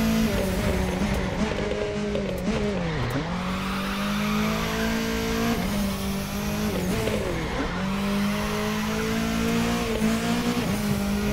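A 421 hp Mitsubishi Lancer WRC 05 drifts in The Crew 2, its engine droning loudly and steadily with repeated dips and swells in pitch as the revs shift, with a faint tire squeal underneath and no voices.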